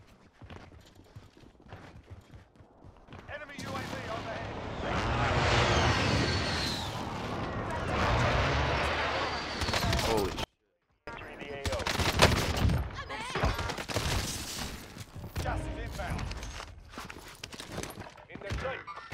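Rapid EM2 gunfire in Call of Duty Rebirth, loud sustained bursts mid-clip followed by more scattered shots and movement sounds, with a player talking over the action.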